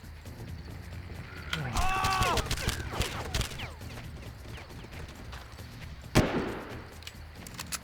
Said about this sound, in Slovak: Ďalšia prestrelka.